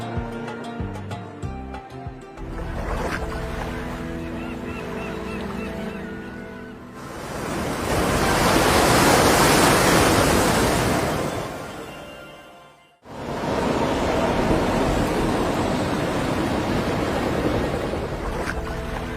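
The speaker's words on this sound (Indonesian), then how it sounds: "Angin dan gelombang mengamuk" Wind and raging waves on the Sea of Galilee: a loud, continuous roar of surf and gusting wind that swells, dips briefly and returns, after a short stretch of dramatic tones at the start.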